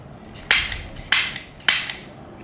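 A revolver-shaped gun lighter weighing almost 500 grams fires three sharp cap-gun-like snaps at a steady pace, each a crisp close crack with a short ringing tail.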